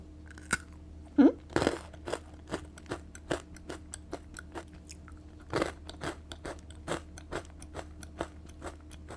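Close, crisp crunching of an olive cheese whole-wheat protein ball being bitten and chewed, a steady run of sharp bites and chews, with no talk over it.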